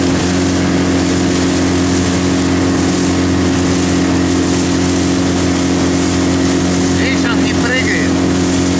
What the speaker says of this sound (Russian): Он маленький железный катерок, видишь,